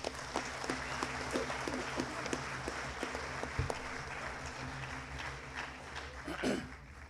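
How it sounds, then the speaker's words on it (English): Applause from a school football assembly crowd for the coaches and trainer, moderately faint and steady with scattered distinct claps, continuing for several seconds. "Please give these guys a round of applause"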